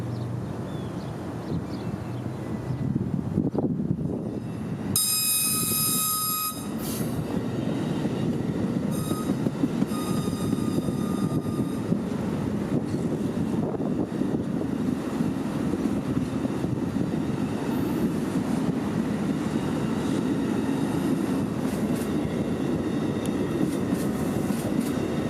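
Freight train PO 91 approaches and rolls past near East 6th Street, with a steady rumble of wheels and cars building and holding, a brief sharp horn or squeal burst early on, then continuous rolling noise for the rest.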